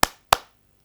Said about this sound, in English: 1 clap, 2 claps,